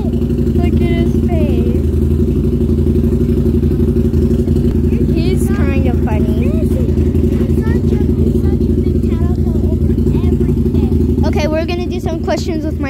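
A motorcycle engine running close by during a ride, making a loud, constant low drone with steady rumble, while a voice talks over it at intervals.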